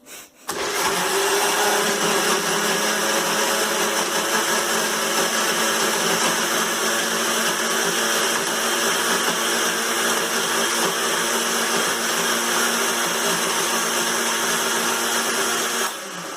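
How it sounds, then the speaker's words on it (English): A blender starts up and runs at a steady, loud, whirring roar for about fifteen seconds without pause. "put the lid on your blender and let it rip"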